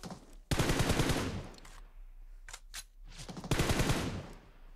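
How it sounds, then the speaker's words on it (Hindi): Automatic weapon fire in the PUBG battle royale game, solo against squad on the Livik map: two loud rapid bursts of shots near the start and end, with a few sharper single cracks between, no talk. "मैंने हल्की से दो तीन गोलियां मार के कवर में आया"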